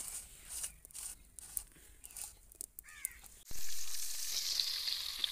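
Onions going into hot ghee in a village kitchen, bursting into a loud sudden sizzle that keeps crackling steadily to the end, after a stretch of quieter clatter and bird caws in the background.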